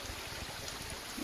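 Creek water flows through a redwood canyon near a small footbridge, a soft, steady rushing hiss that stays faint and even throughout.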